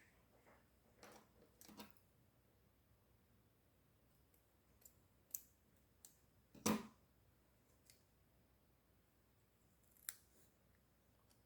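Scissors cutting paper for a scrapbook mini-album, a few sparse, faint snips and clicks spread over a quiet room, with one sharper, closer cut standing out in the middle.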